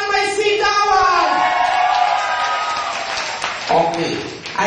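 A television studio audience applauds with loud cheering and whooping, a dense continuous roar of clapping and shouts close up that fills the whole clip, with no one speaking.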